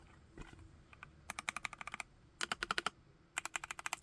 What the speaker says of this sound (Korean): 자, 그러면 타건을 한번 해볼게요.